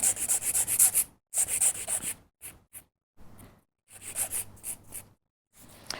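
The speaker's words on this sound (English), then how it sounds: "we'll need to file that off and also to file the sidewalls" A nail file scrapes excess gel off sculpted gel nail extensions and along the sidewalls, in close, crisp back-and-forth strokes grouped into bursts with short pauses between them.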